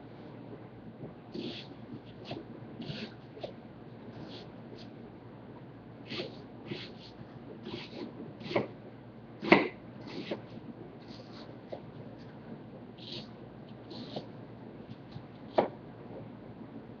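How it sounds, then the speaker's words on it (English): Onions being chopped on a cutting board while preparing pork chop dressing in a home kitchen: a loose series of soft knife taps, a few sharper, louder chops standing out, close and alone over a quiet room. "So I'm going to start on my onions and get them chopped up."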